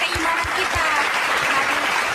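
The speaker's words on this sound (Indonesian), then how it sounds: "tepuk tangan" An audience breaks into full applause, a thick and fairly loud patter of many hands with low thumps mixed in and faint crowd murmur beneath.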